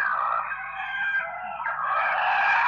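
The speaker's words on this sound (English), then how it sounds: "The cooperative of the chickens are having a little meeting right now." Chickens at a monastery fill the air with a continuous loud, high-pitched clucking and squawking chorus, sustained throughout with a brief dip midway, and no talking.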